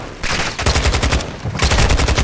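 Loud, rapid automatic machine-gun bursts from Call of Duty: Modern Warfare 2, two sustained stretches of dense fire split by a brief lull.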